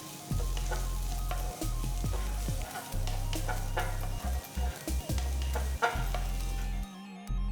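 Chopped onion and garlic sautéing in oil in a pan, a steady close sizzle with occasional stirring knocks and scrapes running throughout, no voices.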